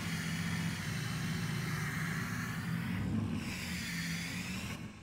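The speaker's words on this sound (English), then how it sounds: "The sound from the exhaust just hits the ground and echoes, and it's just insanely loud." Loud, steady rumble of a Duramax diesel truck engine and exhaust in the Farming Simulator 22 game, droning continuously at close range with a slight shift in pitch partway through, no talking.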